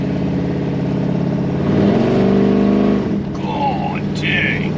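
A freshly built 383 stroker V8 in a bagged Squarebody truck, fitted with a new cam after an earlier cam failure, revs up from a loping idle and settles back down, loud and close, with rough, choppy exhaust pulses.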